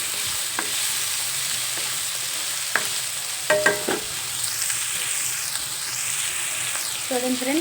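Onion and tomato sizzle in oil in a pan, a continuous crackling fry punctuated by a few sharp spoon clinks and scrapes, with no talking.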